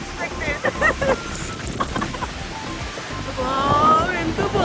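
Niagara Falls roars as a steady, broad rush of falling water, loud and continuous throughout, with voices talking over it.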